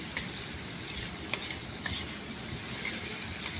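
Matar paneer curry being stirred and sautéed in a pan: a steady close sizzle with a few sharp spoon clinks against the pot, no voices.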